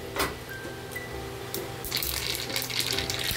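Mustard seeds spluttering and popping in hot oil in a pan, a steady crackle of quick pops and sizzle throughout, close and fairly loud.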